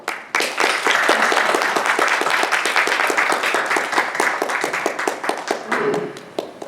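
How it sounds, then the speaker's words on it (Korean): An audience at the Jeongdong National Theatre press call, after a traditional Korean vocal performance, breaks into lively, sustained clapping. The clapping holds steady, then thins and fades toward the end. "박수나 좀 주시오."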